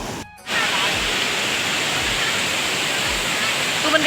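A waterfall at a crowded Sunday picnic spot gives a loud, steady rushing roar that sets in after a short quieter moment at the start. A few low thumps sit under the water noise.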